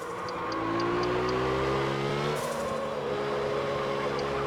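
Car engine in the drifting video game Absolute Drift, a steady loud drone whose pitch climbs, drops sharply midway, then holds, with faint tyre hiss and no voices.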